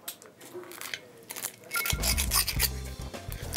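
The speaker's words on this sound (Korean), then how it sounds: "바삭바삭한 소리 들리시죠?" Crispy skin of a whole roast suckling pig crunches in a few close, dry bursts, growing louder and denser after a quiet start, with a low rumble beneath.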